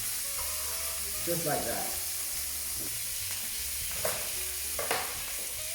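Steak sizzles in a pan with garlic, a soft continuous hiss punctuated by a few brief louder crackles and clatters, and a voice speaks briefly over it.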